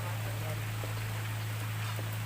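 Light rain falls outdoors in Antipolo over a vegetable garden, a soft steady patter with a low constant hum beneath it and no voices.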